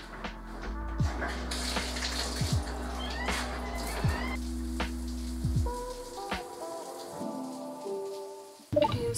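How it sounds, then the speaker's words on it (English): Shower water running steadily, a soft continuous spray with scattered clatter and a few brief tonal noises, the flow stopping partway and leaving quieter handling sounds. "let's shower"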